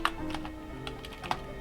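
Someone types on a computer keyboard, a quick irregular run of close, crisp key clicks with a few sharper strokes standing out.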